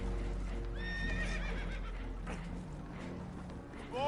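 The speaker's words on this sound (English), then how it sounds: "Horses are spooked" Spooked horses whinny and neigh repeatedly aboard a damaged boat in a PS4 game, several shrill rising calls layered over a constant low rumble of water and motion, close and fairly loud.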